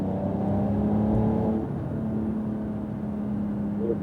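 A Porsche Carrera GTS accelerates on a wet track, its engine a steady, close, droning roar whose pitch holds and then climbs slightly.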